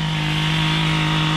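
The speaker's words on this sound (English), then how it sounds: "man behind the scenes is running the chainsaw" Steady, loud drone of a chainsaw running while a tree is cut into pieces on a clearing job, a constant buzzing engine tone held throughout with no pauses.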